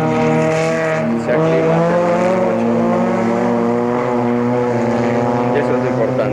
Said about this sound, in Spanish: uno de estos bonitos automóviles neón con motores Chrysler, adaptados para carreras